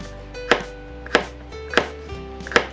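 A knife chops garlic on a board for a carbonara cream pasta, four crisp evenly spaced thuds about half a second apart, close and clear with no talking.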